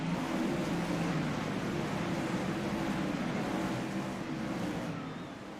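Several 410 wingless sprint cars race around a dirt oval, their engines giving a steady, continuous roar from a short distance that fades slightly toward the end.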